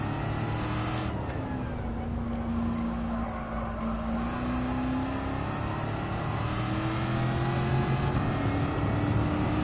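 A legendary American muscle car racing in Gran Turismo 7's Clubman Cup, its engine droning and revving steadily with shifting pitch, loud and continuous throughout.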